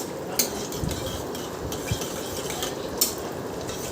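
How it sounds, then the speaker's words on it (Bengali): Whole cumin seeds tempering in a pan for paneer bhurji, with a faint steady sizzle under a few sharp utensil clinks as the seeds are stirred. "এরপর গোটা জিরেটা একটু হয়ে গেলে একটু নাড়াচাড়া করে"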